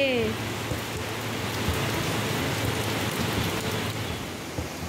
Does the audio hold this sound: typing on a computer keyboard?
no